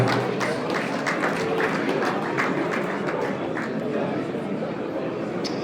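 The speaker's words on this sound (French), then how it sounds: "On peut les applaudir bien fort." Audience clapping at the AsafClip awards ceremony for first-place winners, a dense, steady wash of many hands that holds at a constant level throughout, with a murmur of voices beneath.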